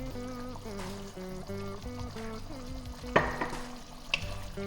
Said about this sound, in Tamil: இந்த தண்ணி எல்லாம் சுண்டற வரைக்கும் கொஞ்சம் வதக்கி விட்டுக்கலாம்